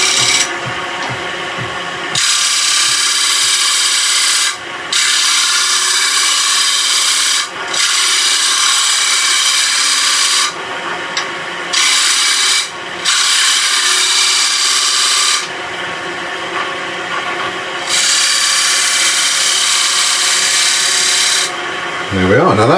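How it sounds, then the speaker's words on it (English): Skew chisel worked as a flat scraper against spinning wood on a lathe for a toffee dish, loud harsh scraping in long bursts broken by short pauses. "we're using the skew as a nice flat scraper"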